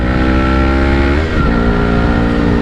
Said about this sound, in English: Bit of clutch slip there, the badly timed shift